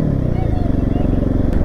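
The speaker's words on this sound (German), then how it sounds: "Ich möchte wissen, wie sich das Bike anhört." A GasGas SM700 motorcycle fitted with a LeoVince slip-on exhaust throbs with a loud, low, pulsing engine note that stays steady throughout, close and dominant in the mix.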